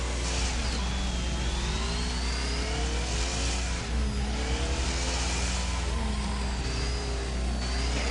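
A big rig truck racing around an oval track in a PS4 video game, its engine droning steadily and loudly throughout with pitch rising and falling as it revs, with no talk over it.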